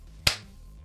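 A single sharp clap rings out once after a countdown, close and crisp with a quick decay in a quiet room, no talk around it.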